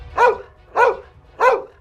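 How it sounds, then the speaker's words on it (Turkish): Three evenly spaced barks from a dog in the Minecraft video game, clear and close, each a short sharp bow-wow with no talking. "Oğlum neden havlıyorsun sen?"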